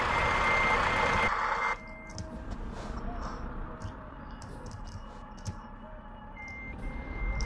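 A truck in Euro Truck Simulator 2 backs up slowly, its reversing alarm giving a steady series of evenly spaced beeps. A loud engine rumble drops away early on, leaving the beeps repeating at moderate level.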